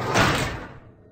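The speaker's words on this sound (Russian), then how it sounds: "Okay, this door opened." A heavy vault-style door in the first-person game Bioshopia swings open with a loud thudding mechanical clunk that fades into a low rumbling tail, heard alone.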